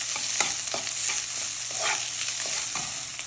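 Fried rice being stirred in a hot pan, with rhythmic spatula scrapes over a steady close sizzle.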